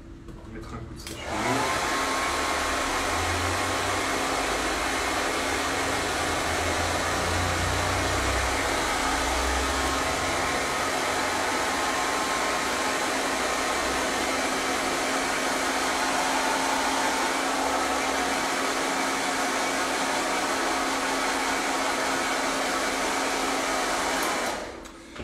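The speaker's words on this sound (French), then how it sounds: "On va mettre un coup de sèche-cheveux." A hair dryer switches on and runs in one long, even, loud whirring blast during an art workshop, then clicks off, with no talk over it.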